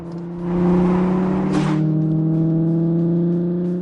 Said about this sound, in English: That's not exhaust noise. That's an actual engine.